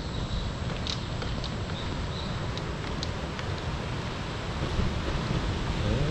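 Small ocean waves wash onto a black sand beach at Playa Hermosa, Costa Rica, making a steady broadband rush mixed with wind noise and no talking.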